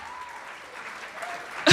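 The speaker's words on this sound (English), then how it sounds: "Start clapping, start clapping, start clapping." A high school band concert audience applauds in a brief, soft burst of clapping that swells suddenly at the very end.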